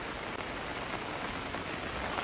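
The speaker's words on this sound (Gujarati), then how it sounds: "વરસાદ બહુ પડે છે" Steady, dense rainfall hisses evenly throughout at a fairly low level, with no other sounds standing out.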